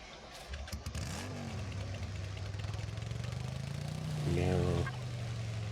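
A motorcycle engine in the survival game Empyrion idles with a steady low hum, then revs up briefly toward the end before settling again. The sound is fairly quiet and continuous.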